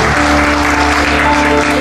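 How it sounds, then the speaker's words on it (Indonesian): A church congregation at a Sunday service applauds loudly and continuously, dense clapping that fills the room over sustained musical tones. "Boleh kita beri tepuk tangan yang dahsyat bagi Tuhan."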